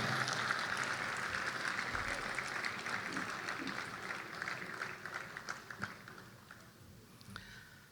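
An audience at a mushaira in Dubai applauds, a fairly faint wash of clapping that gradually thins out into scattered claps near the end.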